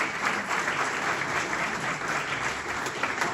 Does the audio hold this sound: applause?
yes